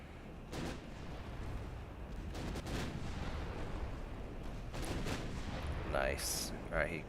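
Naval guns from warships fire in a battle in Ultimate Admiral Dreadnoughts, with repeated booming blasts rolling over a dense, continuous rumble of combat, moderately loud throughout.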